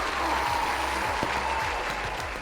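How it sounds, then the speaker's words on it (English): Steady, dense round of applause played for a virtual workplace awards announcement, even and unbroken throughout with a faint tonal hum underneath. "Let's give another virtual round of applause"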